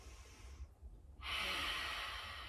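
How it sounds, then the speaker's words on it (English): A big, deep breath during a yoga session: a soft inhale, a brief pause, then a long, loud, breathy exhale close to the microphone. "a few of those really nice big powered up breaths"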